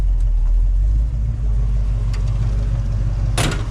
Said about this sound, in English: So I got the car up and running.